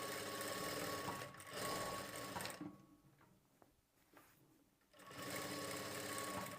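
A sewing machine double-stitches a blouse sleeve, its steady fast whir running loud, pausing briefly mid-way, then resuming; no voices.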